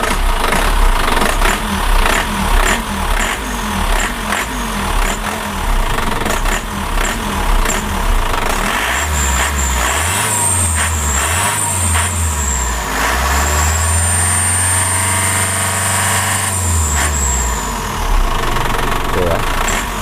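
A tuned Isuzu Traga truck engine runs with a loud, gruff idle and a few low revving swells partway through, all under steady background talk.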